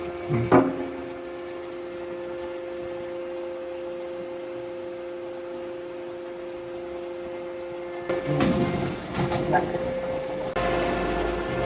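A deep drawing machine pressing a metal plate for a wheelbarrow in a Ghana workshop holds a steady tonal hum, with one clunk early on and then heavier clanks and rattles near the end.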